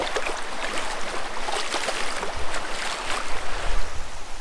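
Footsteps wade through a river, with rushing, splashing water and gusty wind noise that swell and surge close to the microphone.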